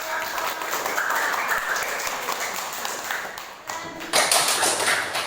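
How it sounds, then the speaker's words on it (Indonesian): Students in a history classroom clap for a group presentation, a lively patter of hands that swells near the end, with faint voices mixed in. "Beri tepuk tangan buat"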